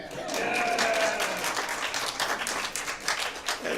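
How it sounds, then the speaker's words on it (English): A round of applause from a crowd, steady and moderately loud at first, then breaking into scattered claps, with faint voices underneath. "A round of applause for the steady hand."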